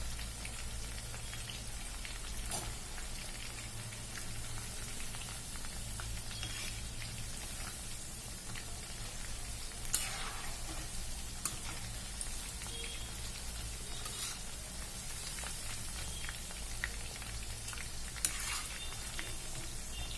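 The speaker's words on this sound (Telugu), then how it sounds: "చికెన్ పకోడా వేగుతున్నాయి" Chicken pakodas frying in hot oil: a steady, even sizzle and crackle that continues throughout with occasional small pops, and no talking.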